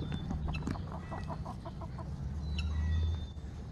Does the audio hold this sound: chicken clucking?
yes